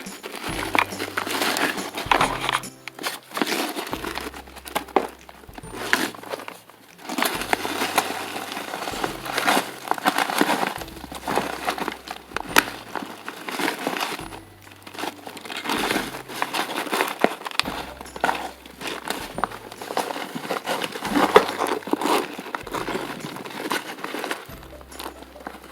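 A hand scrapes and digs through hard, dry vermicompost in a bin of blue worms, giving dry crumbly rustles and gritty scratches in uneven bursts, close and fairly loud, with a low rhythmic thumping beneath.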